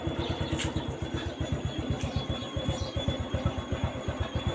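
A Honda Wave 110i motorcycle idles with a rapid, steady ticking pulse from a faulty fuel pump running through the engine's low chug, close and continuous without pause.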